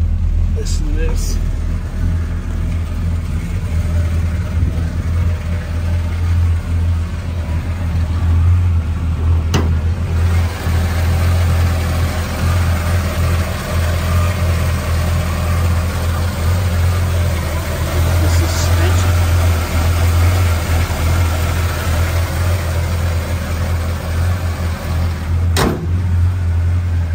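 A 1955 Chevrolet Bel Air Custom engine idling with a deep, steady rumble, heard up close, with occasional sharp clicks and a brief swell in revs partway through.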